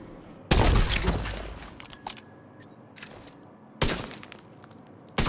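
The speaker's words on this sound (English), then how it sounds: "I'm shooting at them with the capacitor here" Capacitor weapon fire in the video game The Division 2: two loud, sharp bursts of gunfire with a ringing decay between them and another shot starting at the end.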